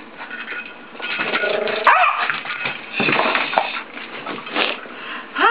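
Several dogs bark and yip excitedly nearby, overlapping in a noisy, continuous burst with occasional whimpers.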